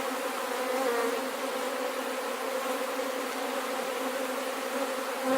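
Honey bees drone steadily at an open beehive during a hive check, a dense, continuous buzz close by with no pauses and no voices.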